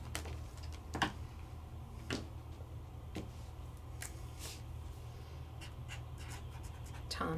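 Tombow markers coloring on paper leather for foam art flowers, heard as soft, close scratchy strokes with occasional sharper taps over a faint low hum, with no talking.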